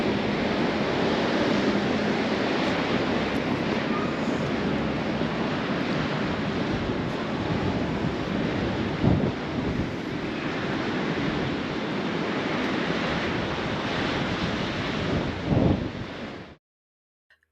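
Atlantic Ocean waves and wind at a beach in Ireland, a steady loud roar of surf with wind buffeting the microphone throughout, alone with no voices, cutting off abruptly at the end.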